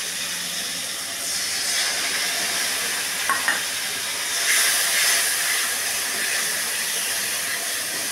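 Spices hitting a hot pan for cabbage curry, a steady loud hiss that surges partway through, with a couple of light clinks.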